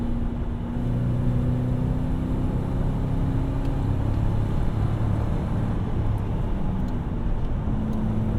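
A manual-transmission Ford Crown Victoria drives along with a steady low engine rumble and road noise, its pitch dropping and rising as gears are shifted, heard from inside the cabin with no talking.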